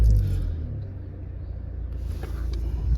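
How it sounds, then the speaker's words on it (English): A Mercedes-Benz A180 CDI with a 1.5-litre diesel engine idles just after starting. It gives off a low, steady, fairly quiet rumble that holds evenly throughout. "Just start the car up."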